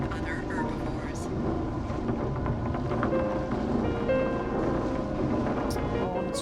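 Steady rain falls as a game weather effect in the dinosaur park sim Jurassic World Evolution, a dense continuous hiss lasting throughout under game music or ambience.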